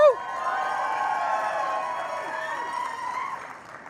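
An awards-show audience at a People's Choice Awards event cheers and shouts on cue, a sustained crowd roar with excited voices, steady through most of the clip and easing off near the end.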